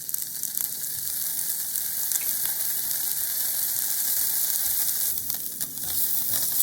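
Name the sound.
salmon frying in oil in a frying pan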